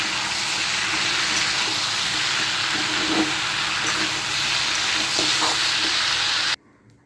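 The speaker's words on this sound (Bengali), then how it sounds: "আমি একটু দিয়ে দিচ্ছি কাঁচা লঙ্কা চেরা দিয়ে আমি একটু নেড়ে দেবো।" Slit green chillies going into a frying pan for a spinach dish, giving a steady, loud sizzle with a few soft stirring scrapes before the sound cuts off abruptly near the end.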